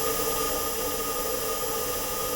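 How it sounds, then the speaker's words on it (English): Fluid pump aboard the Mars rover gives a continuous rattling hiss, a dense even wash of noise with a faint steady whine, unbroken and without voices for a couple of seconds. "the actual fluid pump of the Mars rover"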